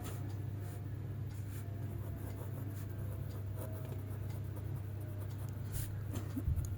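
Writing on a board during a primary-school maths lesson: steady scratching strokes of a marker or chalk repeating through the stretch over a constant low hum, with no voice.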